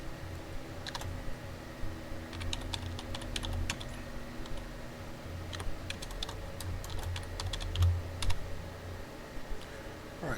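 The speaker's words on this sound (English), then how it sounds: "And then we're going to type schedule of events" Someone types steadily on a computer keyboard in quick bursts of close, light clicking, with short pauses between them in a quiet room.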